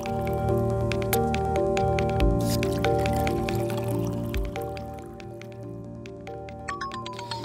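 Cold water pours into a glass, a steady close liquid stream with dripping and splashing that thins out toward the end, no talk over it.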